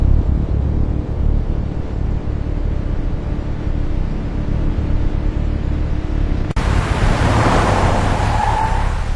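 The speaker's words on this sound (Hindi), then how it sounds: "ये बाहर क्या आवाज आ रही है? ट्रक लगते हैं।" Trucks drive up outside: a loud, steady engine and road rumble fills the whole stretch, with a heavier, brighter surge near the end as they arrive.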